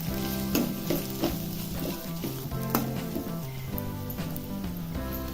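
Spiced corn chivda tossed in a pan with salt and chili powder: a constant sizzle with repeated scraping strokes of a spoon, with faint music playing underneath.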